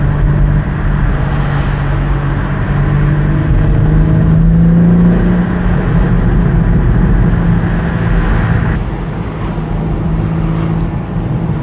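A 2024 BMW M4 Competition Convertible engine rumbles steadily and loudly up close in manual mode with exhaust valves open, its deep exhaust note rising and falling slightly as it cruises, with no talking.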